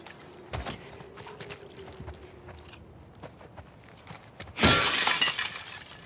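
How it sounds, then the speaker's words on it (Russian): A glass window smashed with an elbow in The Last of Us Part II, heard as a sudden loud shatter late on, after quieter footsteps and small rattling movements. "разбивает стекло"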